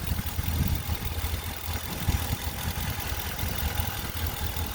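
A RAM truck's 5.7L HEMI V8 idles with a low, even rumble at moderate level, with no voices over it.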